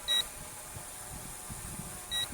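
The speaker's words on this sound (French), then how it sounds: "pourquoi la radio bip?" Two short electronic beeps from a radio, one at the start and one near the end, with quiet background hiss between them.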